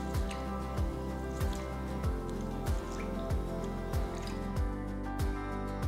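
Rice grains for appam swish and squish in water in a steady rhythm, a wet sloshing sound about once every half second, close by.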